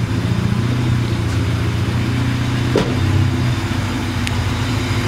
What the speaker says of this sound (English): Now you guys can see the motor is running nice and smooth